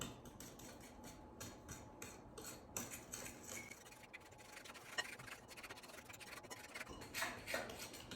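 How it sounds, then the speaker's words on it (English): Jiffy corn muffin batter being stirred in a bowl, a steady run of spoon scraping and rubbing against the sides with small clinks, close and fairly quiet, no talking. "And mix everything together until combined."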